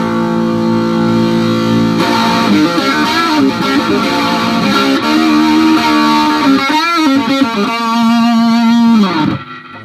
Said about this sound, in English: Let's try modern distortion with the Tube Screamer.